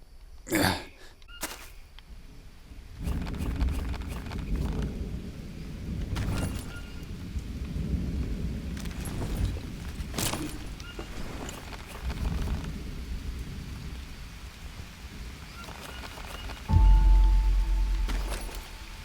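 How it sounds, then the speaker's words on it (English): Rain and thunder in the survival game Green Hell, steady rainfall under low rumbling thunder, with sharp cracks near the start and a heavy boom toward the end, no speech. "Every single time I play this game and I get to this part, it is raining."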